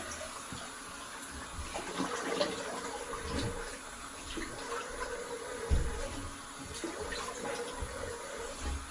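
A razor is rinsed under a running bathroom tap, with a steady, fairly quiet flow of water and small splashes and knocks throughout.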